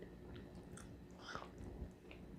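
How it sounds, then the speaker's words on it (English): Someone chews a fast-food chicken sandwich close to the mic, with soft, wet bites and a few crunchy, irregular chews over a couple of seconds and no talking. "I'm still chewing."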